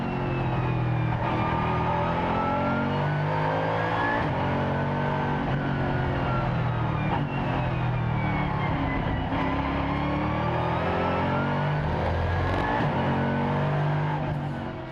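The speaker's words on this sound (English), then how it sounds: "Let's ride now on board with car number 90, the Mercedes SLS-AMG GT3" On board the number 90 Mercedes SLS-AMG GT3 race car at Fuji during the Asian Le Mans Series, its engine drones loud and steady, pitch rising and falling through gear changes for the whole stretch.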